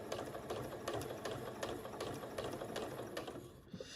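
A sewing machine stitches quilted pouch fabric in a quick, even mechanical patter that runs steadily and then stops, close and fairly quiet.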